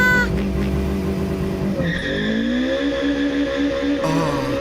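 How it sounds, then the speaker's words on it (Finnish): Cartoon car driving along, its engine sound steady throughout with a rising rev partway, plus light music-like tones layered over it; no talking. "Onpa mukavaa ajaa omaa autoa."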